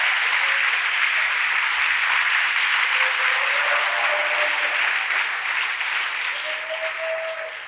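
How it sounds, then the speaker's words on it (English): A church congregation applauds in a sustained, steady wash of clapping at a worship service, loud and continuous throughout, with no talk over it. "So you should clap your hands right there."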